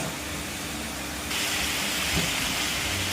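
Vegetables with salt sizzle in a pan as they are sautéed and stirred for a Bengali pui shak and prawn dish, a steady close hiss that grows louder partway through.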